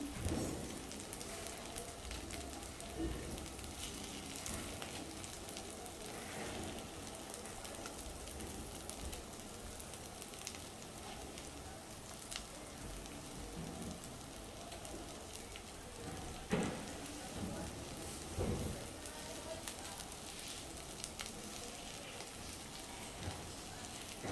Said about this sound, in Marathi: आता दुसऱ्या बाजूने पण चांगल्या मी अशा फ्राय करून घेते